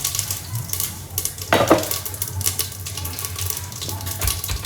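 Cumin seeds dropped into hot oil for a tempering, a brief sharp crackle and sizzle with some clinks of a pan and utensil, close by.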